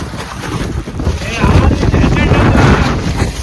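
Loud, steady wind roars and buffets the microphone, growing stronger after the first second and staying rough and continuous throughout.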